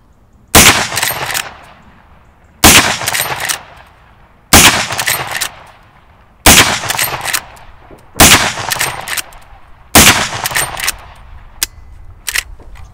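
Marlin 1895 Trapper SBL lever-action rifle fired six times at roughly two-second intervals, each shot a loud, sharp blast trailing into a brief decay, heard close and alone.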